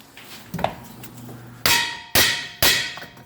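Hammer blows on a front ball joint of a 2008 Nissan Maxima during hub bearing removal: a soft knock, then three loud metallic clanging strikes in a steady rhythm, close up with no talk.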